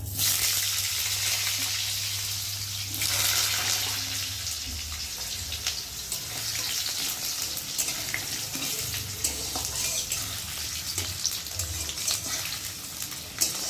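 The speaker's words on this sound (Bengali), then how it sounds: "এখন ফোড়নের মধ্যে দিয়ে একটু ভেজে নেবো" Potato pieces frying in hot oil with whole-spice tempering in a home kitchen, a steady broad sizzle and hiss that carries on throughout with a low hum at the start, no talking.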